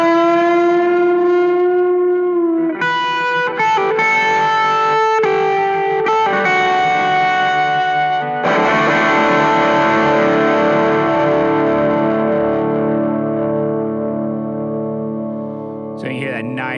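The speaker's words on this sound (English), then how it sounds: "I'll play the same lick with the timeline on." Telecaster lick through overdrive with a Strymon Timeline delay engaged: loud distorted notes and chord stabs, then a big sustained power chord ringing out with delay trails, close and prominent, with brief voice near the end.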